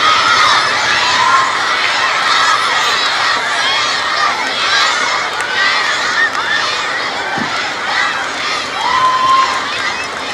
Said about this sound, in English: keep cheering for your house, keep cheering for your team